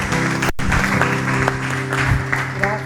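Audience applause for a church worship team, a dense steady clapping wash with musical tones and a brief dropout near the start.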